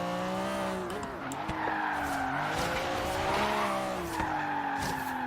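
A 1965 Alfa Romeo Giulia TZ2 in Forza Horizon 3 skids under repeated handbrake pulls through a corner, tires squealing in several bursts over a loud, near engine drone.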